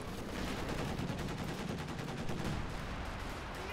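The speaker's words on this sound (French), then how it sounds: "On reçoit des tirs ennemis" Enemy gunfire in the D-Day video game, a dense continuous spray of rapid shots filling the whole stretch at steady loudness, like overlapping automatic weapons in a firefight.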